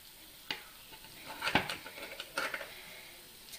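Semolina-stuffed bondas frying in oil as a utensil turns them in the pan, giving a soft sizzle with a few scraping clinks and taps close by.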